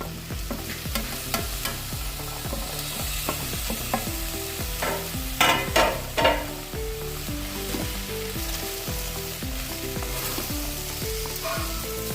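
Chicken and mixed vegetables frying in a pot while being stirred, a constant sizzle beneath repeated scraping strokes of a utensil against the metal, steady and close with a brief louder clatter midway, no voices.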